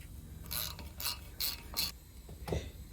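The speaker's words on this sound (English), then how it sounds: "Just put it in by hand, or I did it with a ratchet, but it's not tight at all." A hand ratchet turning a brake caliper bolt on a 2014 Mercedes A180 during a front brake disc and pad job, five short clicking bursts in a steady rhythm, close and fairly quiet.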